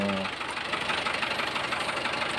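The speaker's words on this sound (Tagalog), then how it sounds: "niluwagan ko na pero yung lagatok nandyan pa rin" A car engine idles with a steady, rapid knocking tick running through its rough hum, close and constant throughout, with a misfire at cylinder number 4.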